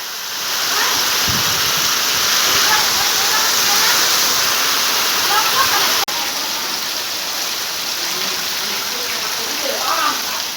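Heavy rain pours during a village windstorm, a dense and loud steady roar of water on surfaces that stays constant throughout, with faint gusts on top.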